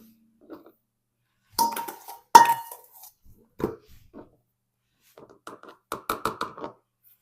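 A jar of Magic Muffin mix shaken by hand gives several short, irregular bursts of knocking and clinking, close and fairly loud, separated by brief pauses.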